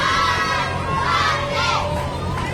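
A youth football cheer squad chanting a cheer at a Christmas parade, loud, high children's voices shouting in unison with crowd noise around them, close and sustained.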